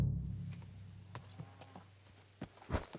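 Horse hooves clip-clop faintly in the medieval game Kingdom Come Deliverance II, soft uneven thuds spaced apart over a low background hum, with a slightly louder pair of steps near the end.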